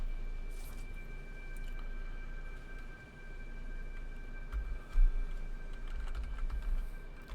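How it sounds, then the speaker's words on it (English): Steady run of keystrokes on a computer keyboard during a Satisfactory gaming session, close and fairly quiet, continuing for several seconds with a few louder taps near the end. "I was typing enter."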